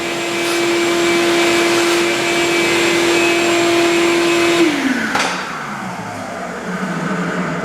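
A shop vacuum sucks up oil during a sawmill mandrel repair. Its loud, steady motor whine runs close by, then drops in pitch as it slows near the end and a lower rumble carries on.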